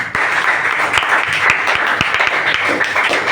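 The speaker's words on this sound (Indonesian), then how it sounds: "Tepuk tangan." Classroom of students applauding together in steady, dense clapping that fills the room from start to finish at a loud, even level, with no talk over it.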